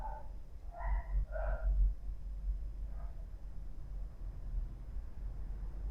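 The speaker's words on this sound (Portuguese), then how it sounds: "Cachorro, deixa eu terminar. Não sei quando que ele começou a latir." A dog barks a few times in quick succession early on, then gives one fainter bark about a second later, heard at a moderate distance over a low background hum.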